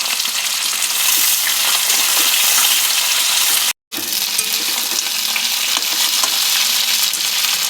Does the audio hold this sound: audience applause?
no